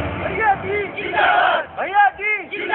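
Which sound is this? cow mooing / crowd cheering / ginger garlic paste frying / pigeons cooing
crowd cheering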